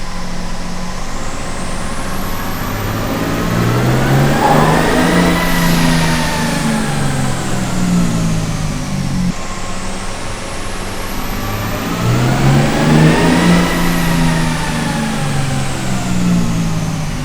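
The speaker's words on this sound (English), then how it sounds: "we're gonna do 2 runs with the muffler open, straight pipe" A truck engine, running a 25 horsepower tow tune with the muffler open as a straight pipe, revs loudly on a dyno through two rising-and-falling pulls with a whine that climbs and drops.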